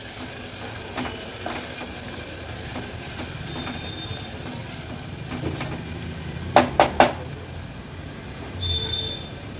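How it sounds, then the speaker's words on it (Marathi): Chopped onion fries in a pan over a low to medium gas flame, giving a faint, steady sizzle with a few sharp clinks of utensil against pan partway through. "गॅसची फ्लेम लो टू मीडियम वर ठेवून कांदा आपल्याला शिजवून घ्यायचा आहे"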